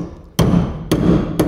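Three heavy metallic hammer blows, spaced roughly half a second apart and close, drive a tool through spot welds on a rusty sill of a Holden Torana GTR XU-1 LJ classic car, each strike ringing briefly.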